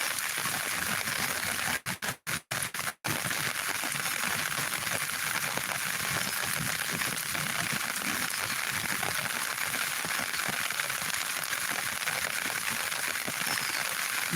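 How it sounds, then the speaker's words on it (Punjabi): Continuous hiss of steady rain falls throughout a village near Nabha, Patiala, a dense even patter with a few brief sharp clicks near the start. "ਮੀਂਹ ਪੈ ਰਿਹਾ"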